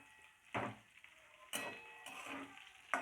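Green chillies and potatoes frying in a pan for sabudana khichdi, a soft steady sizzle with a few louder stirring scrapes, close up.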